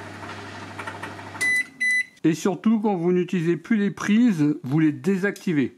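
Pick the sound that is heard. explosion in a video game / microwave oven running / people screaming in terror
microwave oven running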